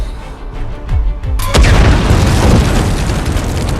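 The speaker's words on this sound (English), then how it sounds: "a good old-fashioned bomb gets the job done" A bomb goes off in the Suicide Squad film: a heavy boom bursts in about halfway through, then a dense, loud rumble that keeps going to the end, with no talking.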